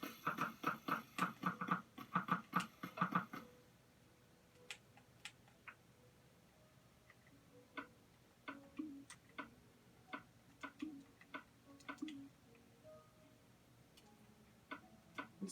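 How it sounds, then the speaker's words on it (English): Minecraft redstone clock driving three dispensers in an arrow gun: a dense burst of rapid mechanical ticks at first, then sparser, irregular clicks and taps spread across the rest, fairly quiet, with no voices. "It's basically just a redstone clock and 3 dispensers."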